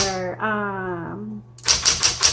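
A 1960s Smith Corona Electra 110 vintage electric typewriter clatters through a quick burst of close, loud keystrokes and carriage noise, following a moment of talking.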